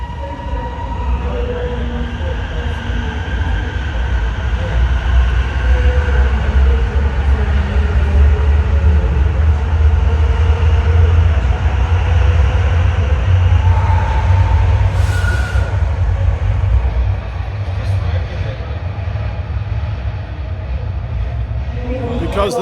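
A Melbourne Metro train rumbles through a loud underground station, its deep continuous roar and rolling wheel noise steady for over twenty seconds with faint tonal whines and a brief squeal.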